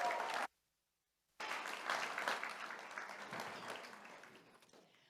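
A brief burst of clapping, a full gap of silence, then a larger round of audience applause at a charity fundraiser event, dense and steady before gradually fading out.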